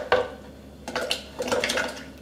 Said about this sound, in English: Ooh, splash.